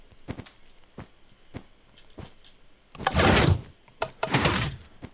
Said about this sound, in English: So now when I step on the doors, they'll open.